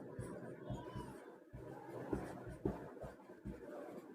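Pen or chalk scratching out a Class 10 math solution, a soft irregular scraping that runs steadily with a few sharper taps, close and fairly quiet.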